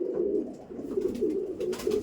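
A Kaldom pigeon coos in repeated low, throaty rolls, close and fairly loud, with no talking over it.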